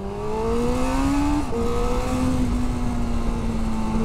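A 2022 Honda CB1000R Black Edition motorcycle engine revs hard in first gear, a loud steady rising drone with a brief dip and shift near the middle before pulling on again, close up with no talk.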